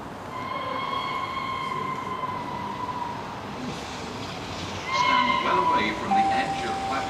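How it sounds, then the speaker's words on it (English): The Tornado 60163 steam locomotive runs through Havant station without stopping, a steady close rail rumble with sustained whistle-like tones that swell louder toward the end, while a voice speaks over it. "The approaching train is not scheduled to stop at this station."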